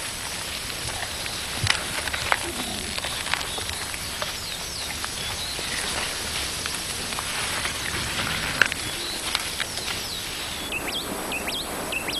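Steady rain falls on a mountain forest habitat of gorillas in a national park, a dense hiss of drops pattering on surfaces with scattered louder taps and faint bird calls, holding at an even level.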